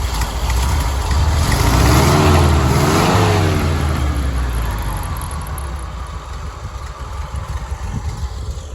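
1974 VW Type 181 Thing air-cooled engine with a poorly adjusted carburetor running close by, a loud steady rumble with a brief rise and fall in revs early on before settling into an even idle.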